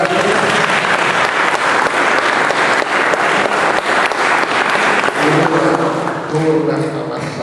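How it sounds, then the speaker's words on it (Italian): Sustained crowd applause for Giorgio Massari at a live event, a dense, loud wash of clapping running throughout, with a voice rising over it in the last couple of seconds. "Un applauso per Giorgio Massari."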